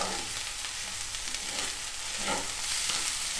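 Chicken bread roll stuffing sizzles steadily in a pan, a loud, continuous close-up frying hiss with a faint stir partway through.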